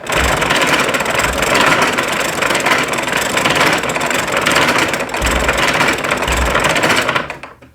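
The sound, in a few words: cranking a homemade mechanical calculator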